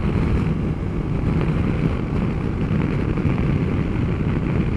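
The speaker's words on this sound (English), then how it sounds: "you open the visor, even the slightest amount, and you get a lot of wind noise" Steady, heavy wind roar buffeting a rider on a BMW S1000XR motorcycle with the helmet visor cracked open, a dense low rumble that stays loud and unbroken throughout with no voices.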